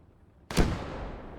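A tank firing a HEAT shell in the WWII strategy game Gates of Hell on the Eastern Front: one sudden, loud, close cannon blast after a quiet moment, followed by a long rumbling decay, with no talking.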